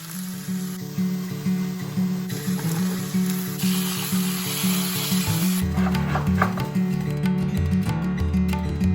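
Tomatoes sautéing in a pan with lime olive oil, a steady soft sizzle with stirring and scraping of the pan, close and continuous with no talking.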